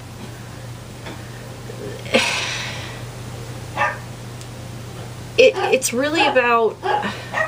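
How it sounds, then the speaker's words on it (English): Dogs bark and yip in a short burst well behind a talking voice, somewhat distant, over a steady low electrical hum. "Sorry about the dogs barking in the background."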